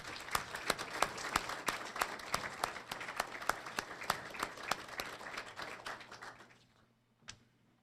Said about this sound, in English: please join me in giving the instructors and volunteers a round of applause